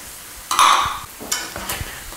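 Garlic, freshly minced basil and shallots hitting a hot pan, a burst of sizzling that swells and fades, followed by a few stirring scrapes and light clinks, heard close with no talking.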